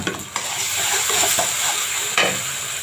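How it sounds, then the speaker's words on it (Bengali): Garlic paste for a pabda fish curry sizzling in a pan while being stirred, a loud close frying hiss with scraping strokes throughout. "এখন আমি ভালো করে নেড়ে দিচ্ছি যাতে রসুনটা কাঁচা গন্ধটা চলে যায়"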